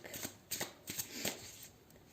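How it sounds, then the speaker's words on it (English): A deck of tarot cards is shuffled by hand, with four or five quick riffling bursts of crisp paper flutter in an otherwise quiet room. "I'm going to shuffle and pick cards from this deck."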